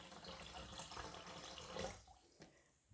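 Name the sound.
water pouring from an Alexapure water filter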